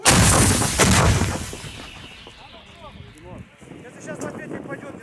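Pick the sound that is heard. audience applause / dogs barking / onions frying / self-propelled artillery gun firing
self-propelled artillery gun firing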